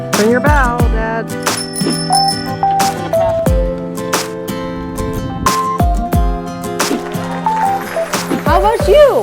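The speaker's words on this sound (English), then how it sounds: "Ring your bell, Dad." Bright metallic rings of a bicycle bell sound repeatedly over a steady ride, mixed with loud, busy noise and ringing tones close by.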